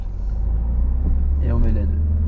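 A car driving during a driving lesson, its engine giving a steady, close low rumble that swells slightly as it accelerates, with a brief voice partway through.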